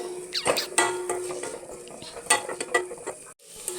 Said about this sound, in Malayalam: തക്കാളി ഇട്ട് കൊടുത്തിട്ടുണ്ട് ഇനിതാ ഇതും കൂടെ കൂട്ടി മിക്സ് ആയി കൊടുക്കാം